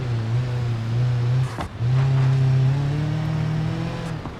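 A rally car in BeamNG Drive races at speed, its engine droning loud and steady with a brief dip as revs drop and shift before climbing back to a sustained high note.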